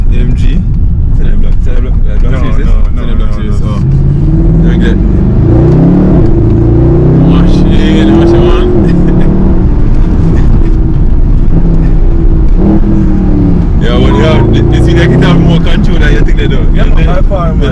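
A Mercedes SLS AMG sports car engine drones and rises in pitch as it revs while driving, a loud cabin sound with a person talking over it throughout.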